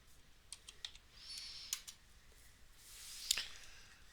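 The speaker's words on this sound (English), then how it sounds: "Type this thing out here before anything else happens." Quiet clicks of typing on a computer keyboard tap out in a sparse, irregular rhythm, close and faint against a soft room hiss, with one sharper keystroke near the end.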